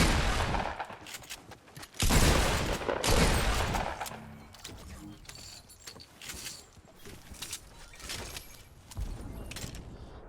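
Pump shotguns in the Fortnite video game blast loudly at close range in a quick cluster of shots, followed by fainter gunfire and game clatter that fade over several seconds.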